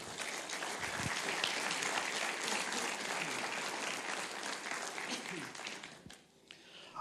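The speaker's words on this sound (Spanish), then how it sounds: "Denle un fuerte aplauso al Señor." A church congregation applauds steadily and loudly for several seconds during a Spanish-language sermon on evangelism, the clapping tapering off near the end.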